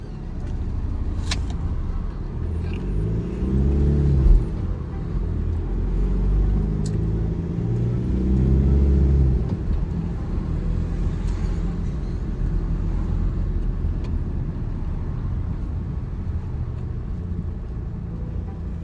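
Road traffic around a delivery driver's vehicle on a hot morning, a steady low engine rumble and road noise with passing vehicles swelling and fading, fairly close.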